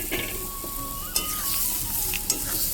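Potatoes sautéing in spice masala in a pan for a tangra fish curry, a steady close sizzle with scraping stirs throughout and a couple of sharp utensil clinks.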